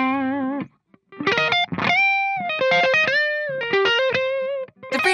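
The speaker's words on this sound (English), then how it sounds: "Powered by dual 12AX7 preamp tubes, it's like putting a Dirty Shirley right on your board for incredible British tones without the bulk." Electric guitar played through a Friedman IR-D preamp pedal with dual 12AX7 tubes, giving a British-style overdriven tone: loud distorted single notes and sustained bends with short gaps, alone with no talking.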